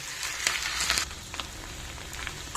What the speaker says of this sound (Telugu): మంచి కలర్ వచ్చే వరకు వేయించుకోవాలి అల్లం మంచిగా ఫ్రై అయిన తర్వాత